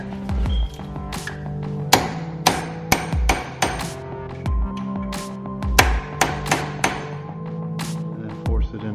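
Repeated sharp metallic hammer blows on a punch ring out at close range while a bolt is staked on a BMW E70 wheel hub during a front wheel bearing job, irregularly spaced strikes with ringing overtones.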